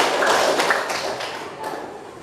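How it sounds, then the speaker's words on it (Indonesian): A classroom of students claps hands together in a short, close burst of taps that fades over a couple of seconds. "Tepuk tangan untuk kalian."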